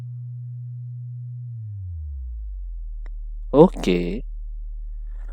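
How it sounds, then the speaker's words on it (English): A steady deep bass sine tone that glides down from a slightly higher pitch and holds low at 38 Hz, continuous and clean, with a brief spoken word over it near the end. "so I'm producing 38 hertz right now"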